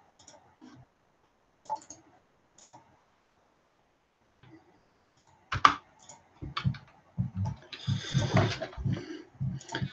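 Computer keyboard typing and clicking, sparse isolated clicks at first, then a dense burst of rapid keystrokes that grows louder and busier toward the end, close by with no talk.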